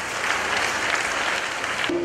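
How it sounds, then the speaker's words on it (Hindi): A school film festival audience in Rajasthan breaks into steady, dense applause that fills the whole stretch at close range, then tapers in the final moment. "एक बार जोरदार तालियां हो जाए"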